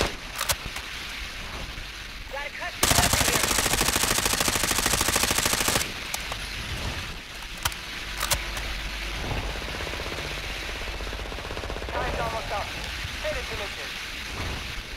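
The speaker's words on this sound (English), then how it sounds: "a teammate's shooting at him, so... keep shooting until you hit something" Gunfire in Call of Duty: Modern Warfare II, with a long sustained burst of automatic fire and scattered individual shots, loud and close, while players talk over the action.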